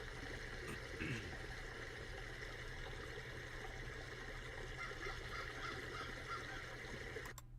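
A waterfall's continuous roar of rushing, falling water fills the whole stretch, steady and enveloping, with a faint bird call mixed in.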